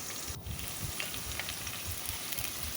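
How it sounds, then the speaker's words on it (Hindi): Sliced onions fry in oil inside a pot, browning for nihari, with a steady close crackling sizzle and dense popping spatter throughout. "ये बर्तन के अंदर हमने ऑयल डाल के और प्याज ब्राउन करने रख दी है।"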